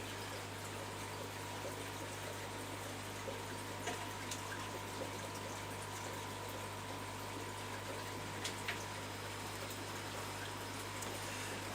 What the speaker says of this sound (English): I'm relying on you to tell me when I've got a full tank and need to get turning the water off